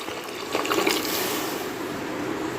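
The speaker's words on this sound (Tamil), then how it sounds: "இப்போது 400 கிராம் ஓட்ஸுக்கு 1 பங்கு தண்ணி, அதாவது 400 ml தண்ணி சேர்த்திக்கலாங்க" Steady splashing of about 400 ml of water poured into a cooking pot of oats, a continuous close pour with a brief louder gush near the start.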